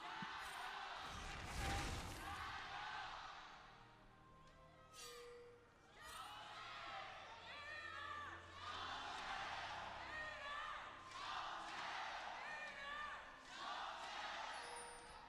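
Esports arena crowd at an LPL Summer 2019 League of Legends match between LNG Esports and JD Gaming, shouting and cheering in loud, surging waves, with a sharp burst near the start and sustained roaring throughout.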